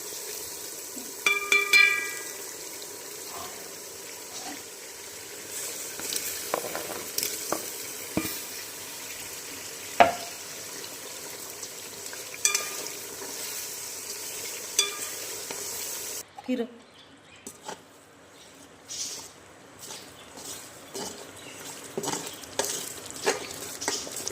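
Tomatoes sizzle in a pan while being stirred, with a steady frying hiss broken by scraping and clinks of the spoon. The sizzle drops away partway through before the stirring resumes, and faint voices sound in the background.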